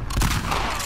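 A gunshot in The Last of Us Part II, a single loud, sharp blast followed by a short rumbling tail, heard alone and close up.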